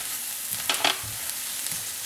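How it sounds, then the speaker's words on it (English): Cumin, garlic and onions sautéing in butter: a steady, close sizzle with a few soft stirring scrapes and clicks, no talking. "that's been about 2 minutes that's been sauteing that garlic"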